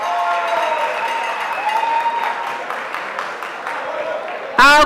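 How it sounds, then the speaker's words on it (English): Sustained applause from an audience at a university gas-industry quiz competition, a steady dense wash of clapping mixed with crowd noise that ends in a louder burst. "A round of applause to them."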